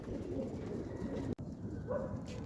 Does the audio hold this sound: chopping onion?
no